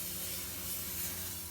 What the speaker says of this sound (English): spray that bowl really good